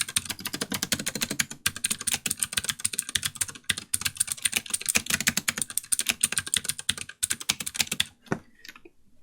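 Rapid continuous keystrokes from an AKKO Mod 008 mechanical keyboard fitted with Kailh Browns, GMK keycaps and thicker O-rings give crisp, close clacks, then stop with a final thump near the end.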